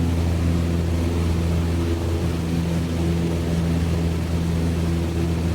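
Steady drone of a light aircraft's propeller engine at 2,300 RPM cruise power in Microsoft Flight Simulator, a loud constant hum with a deep rumble and unchanging tone from start to finish.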